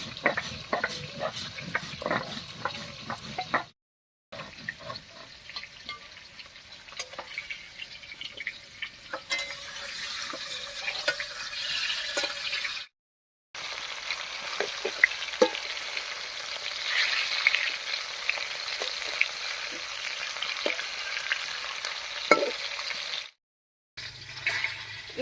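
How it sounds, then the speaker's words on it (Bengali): Pieces of katla fish fry in hot oil in a pan, a continuous crackling sizzle with sharp pops and occasional stirring or scraping, cut by a few brief silent breaks, with no talking. "মাছগুলো ভাজা হতে থাক"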